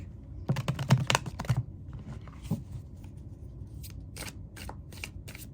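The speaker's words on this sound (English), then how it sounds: "So let's get you a couple cards from the Career and Life Oracle deck." Oracle cards from a career and life deck being shuffled by hand, a run of quick crisp riffling flutters early on, then quieter sporadic card slaps and shuffles, close and fairly soft with no talking.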